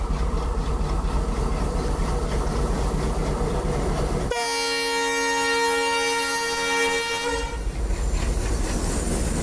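An old ALCO WDG3 diesel locomotive in India, played back from a recording, rumbles steadily and loudly. Midway it sounds a long, sustained horn blast, and then the engine noise continues alone.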